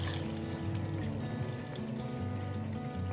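Water from half a glass is poured into a pot of beef pieces. It makes a steady, continuous pouring and trickling rush at moderate loudness, with no one speaking.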